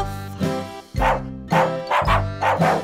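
A cartoon-style dog woof in a children's nursery rhyme song: a few short yapping barks land on the beat over a bouncy, steady musical backing.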